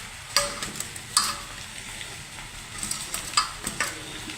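Garlic dropped into a hot frying pan while making a pasta snack, with soft crackling sizzle broken by a few sharp clicks and scrapes from stirring, fairly quiet and with no talking.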